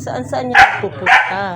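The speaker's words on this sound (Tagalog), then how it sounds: "Yan yung aso namin." A family's pet dog at home gives two sharp barks close by, a short pause between them, as someone talks in the room.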